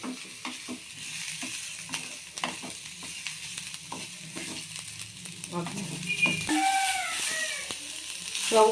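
Onions frying in oil for a fish curry, a steady close sizzle with occasional stirring scrapes, the frying growing louder and brighter near the end.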